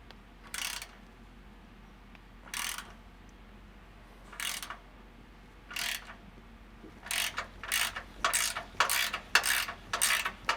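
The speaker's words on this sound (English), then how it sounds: "I'm gonna be using a 14mm socket to get these installed" A ratchet with a 14mm socket tightens rock slider bolts on a Toyota 4Runner: short clicking bursts spaced a couple of seconds apart, then a rapid run of back-to-back strokes, close and clear.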